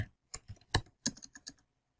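Fingers typing on a computer keyboard while adding a password variable to an Ansible playbook, a quick burst of close, crisp key clicks before falling quiet.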